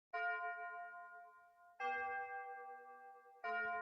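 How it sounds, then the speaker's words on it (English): Electronic keyboard playing a chime or bell voice, three staccato bell-like notes struck about every 1.7 seconds, each ringing with bright harmonic overtones and decaying before the next, close and clear with no voices. "when you use chimes, bells, or any of that, you're going to play staccato"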